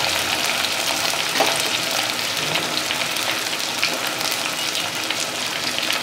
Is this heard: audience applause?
no